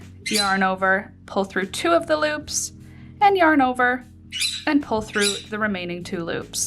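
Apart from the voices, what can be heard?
pet birds squawking in the background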